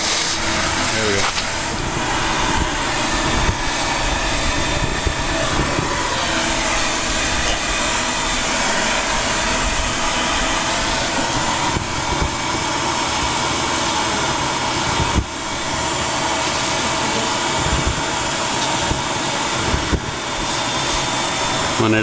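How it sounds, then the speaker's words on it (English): A vacuum drones steadily while sucking up a thick mass of bees during a honeybee hive removal under an elevated house in Ansley, Mississippi, a loud continuous broadband roar that runs the whole time with talk over it. "you gotta vacuum them to get them out of the way just to see what you're doing"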